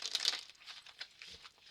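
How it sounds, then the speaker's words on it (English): Tarot cards being shuffled during a tarot reading, a soft run of papery riffling and crinkling bursts, quick and close, with no talk over it. "I'm going to shuffle 3 times."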